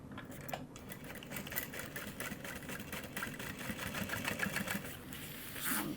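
A sewing machine top-stitches through the layers of a tote bag, a fast steady mechanical whirr with rapid needle ticking, close and fairly quiet, running continuously with no speech.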